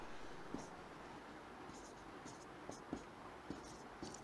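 An equation being written by hand during an algebra lesson, soft scratchy strokes and a few light taps spaced over a few seconds, quiet against low room noise.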